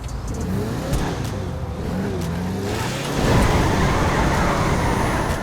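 A car in GTA Online revs and surges with nitrous, a loud, close engine roar that climbs and swells into a stronger rushing burst partway through, with no talking.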